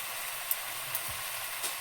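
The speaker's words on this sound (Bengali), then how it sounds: "নারকেল ভাজা, ফোড়ন দিবি।" Coconut and tempering spices sizzle in a pan for a pachon-style vegetable dish, a faint, steady hiss with a few small pops and crackles spread across it.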